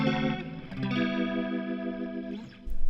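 A sustained distorted guitar chord swirls and warbles with an Axe-FX III rotary speaker effect, its tone pulsing steadily before cutting off.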